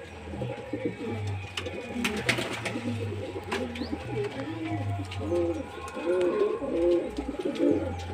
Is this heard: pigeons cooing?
yes